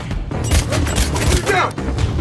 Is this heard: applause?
no